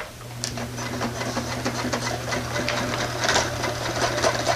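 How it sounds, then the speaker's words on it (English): Sewing machine stitching a plastic-lined fish bag for a tuna cooler, a steady, close mechanical whir with a constant low hum and fast rhythmic needle chatter throughout, no talk. "We're gonna go ahead and sew, rolling the edge over."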